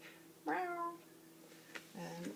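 A pet cat meows twice close by in a quiet room during a yoga practice, two short, clear calls about a second and a half apart.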